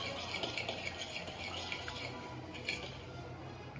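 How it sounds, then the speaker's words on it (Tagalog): An egg is beaten in a bowl with a utensil, a steady close whisking and clinking that runs without a break. A faint sizzle from frying sits in the background, and no one talks. "Bati itlog. 1 egg."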